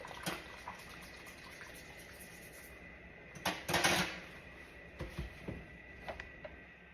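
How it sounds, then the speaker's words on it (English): A decontamination tool being scrubbed while held under water, giving soft sloshing and brushing with a louder splashy burst midway and a few scattered knocks, under a constant faint hum. "Making sure that the tool is submerged underneath the water while you scrub"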